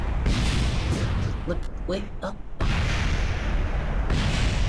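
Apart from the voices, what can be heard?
rocket explosion in the video game Kerbal Space Program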